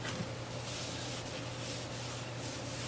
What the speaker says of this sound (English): I'll just rub some on the bottom here